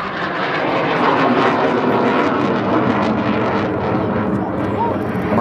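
A loud, steady roar of jet engines fills the air, sustained and close as Czech-built Aero Vodochody jets of the Jordanian Falcons display team pass overhead.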